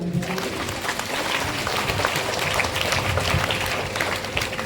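A church congregation gathered for a Holy Cross feast day Mass applauds to welcome the priests, steady dense clapping from many hands filling the space at moderate loudness, with some faint voices mixed in.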